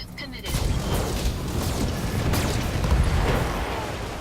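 Weapons fire and explosions tearing into an enemy mech's center torso in the game BattleTech, a dense continuous barrage of booms and rumbling impacts starting abruptly and sustained loud throughout.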